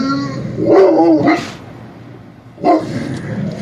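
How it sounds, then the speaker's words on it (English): A dog barks a few times nearby at its reflection in the glass, with a pause between bursts, some yips mixed in against a quiet late-night indoor background. "he's barking at the glass"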